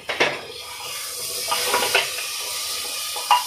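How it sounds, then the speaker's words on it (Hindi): Water is poured into a pan of fried cauliflower with coriander, turmeric, chilli and masala, giving a few short splashy bursts and sizzles close by against a steady background hiss, with no talking. "उसमें पानी डाले हैं।"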